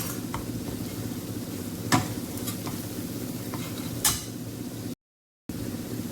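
Spice masala with red chilli, coriander powder and Kashmiri chilli roasting in a pan for pav bhaji, a steady dry sizzle with two scraping stirs of a spoon, close by and with no talk.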